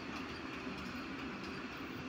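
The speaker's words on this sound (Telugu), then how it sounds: "ఇదే నాగ్పూర్ సికింద్రాబాద్ కొత్త వందే భారత్ ట్రైన్." The new Vande Bharat train running from Nagpur to Secunderabad rumbles past as a steady, faint, broadband roar with no voices.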